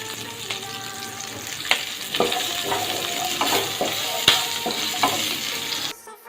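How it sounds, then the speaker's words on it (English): Onions sautéing in a pan still hot from frying malai chaap, with a steady close sizzle and scattered scraping clicks of a spatula stirring, ending in a brief near-silence. "In the same pan, I'll saute some onions."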